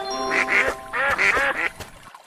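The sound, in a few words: duck quacking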